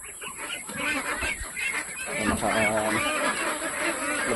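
Pet ducks at a hut give loud, close nasal honks and quacks, overlapping and continuous, with a person talking faintly underneath.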